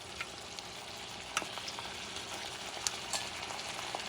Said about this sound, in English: Let me mix things up a little bit so it's manageable.